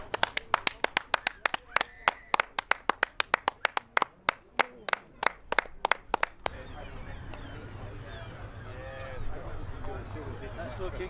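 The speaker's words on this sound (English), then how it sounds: "Imagine the ball's gone in and clap it in." A small group of people claps rapidly and crisply at a crazy golf championship, with a quick run of loud sharp claps that stops abruptly and gives way to a low murmur of voices.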